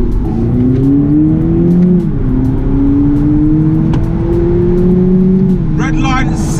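A 2019 BMW Z4 G29 engine, rated 197 bhp and 238 lb-ft, revs in rising and falling sweeps, loud and close, with a steady rasping tone that builds and eases twice.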